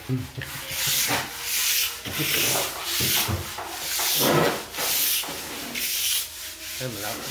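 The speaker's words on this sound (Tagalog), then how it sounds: "Marami-raming lihain guys." A wall is sanded by hand with sandpaper in repeated long rasping strokes, a dry scratchy rhythm of back-and-forth passes that is close and steady throughout, with no voices.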